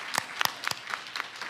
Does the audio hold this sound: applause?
yes